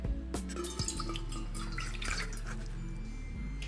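Water poured into a glass while an Ayurvedic cough and cold remedy is being made, a trickling, dripping stream with bright splashy spatters over a low hum, short and close.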